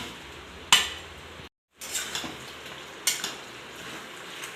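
Chilli chicken being stirred in a pan, with soft scraping and occasional sharp metallic clinks of a utensil against the pan over a low sizzling hiss, close and alone.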